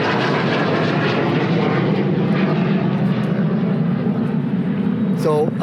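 A light airplane flies on a hybrid pre-production engine, giving a loud, continuous propeller drone that stays steady throughout, with a short burst of another sound near the end.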